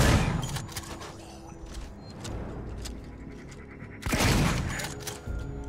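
Two loud, booming shotgun blasts in Alien: Isolation, several seconds apart, each with a heavy reverberating tail over low ambient rumble.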